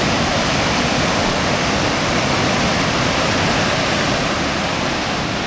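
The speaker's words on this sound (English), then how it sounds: "Yep, the rivers are quite ferocious because of this rain." A rain-swollen river in the Scottish Highlands rushes ferociously, filling the air with a loud, unbroken roar of churning water. It stays close and constant throughout.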